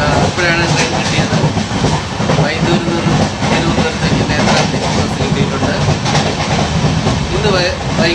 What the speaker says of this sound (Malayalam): ഇപ്പോഴാണ് ട്രെയിൻ കിട്ടിയത്.